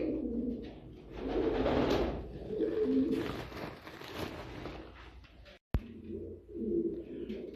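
Several pigeons at a pigeon farm in Saudi Arabia coo in low, throaty rolling calls nearby, rising and fading in waves, with one sharp click partway through.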